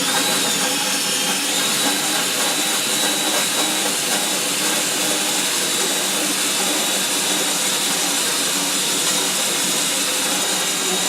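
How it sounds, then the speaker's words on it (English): A power sander works over a rusted metal fan dome from a Kisco fan, a steady, loud, broadband hiss and whir that runs continuously with no pauses. "I've sanded this bottom section off"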